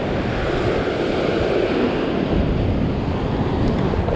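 Ocean waves and wind at sea on a fishing outing, a steady loud rush of surf and wind buffeting the microphone throughout, with no pauses.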